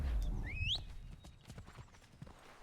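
Horse hooves clip-clop in a steady, close rhythm in the video game Assassin's Creed 3, with a brief rising whistle-like tone near the start and a low background rumble.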